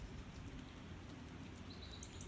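Light rain falling outdoors on a country walk near waterfalls, a faint steady patter with a few distant bird chirps and no voices.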